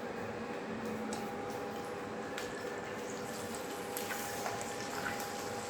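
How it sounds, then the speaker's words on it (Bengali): Frozen potato chips dropped into hot oil in a home kitchen pan, giving a steady, close hiss and crackle of frying with faint bubbling throughout and no talking. "এই আলু ভাজাটা এটা আমি এবার গরম তেলে ছেড়ে দেবো।"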